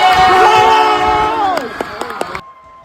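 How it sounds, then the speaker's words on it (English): A crowd at a high school soccer playoff cheers and applauds at the end of the United States national anthem, the sung final note fading into loud cheering and a few sharp claps before cutting off. "One more round of applause for Esther San Hoih"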